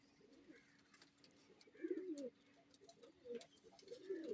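Pigeon chicks coo softly in short, repeated bursts, several low throaty calls spaced across a few seconds, close by against a faint steady hum.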